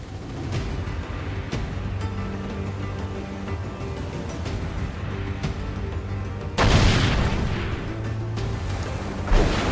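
Ship cannons fire in a naval battle in Assassin's Creed IV Black Flag, one loud boom bursting out midway above a constant roar of battle noise, sea and rumble, with a smaller thump near the end.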